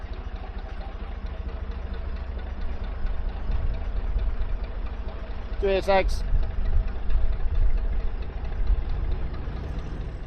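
A canal boat's low engine rumbles steadily nearby as it passes slowly down a canal, with brief talk in the middle.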